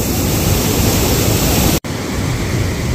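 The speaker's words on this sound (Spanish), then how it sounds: "Toda la cascada." Iguazú Falls roars as a massive waterfall in a loud, unbroken broadband rush close by, with one abrupt momentary dropout partway through.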